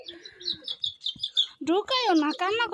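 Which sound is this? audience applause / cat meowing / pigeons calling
pigeons calling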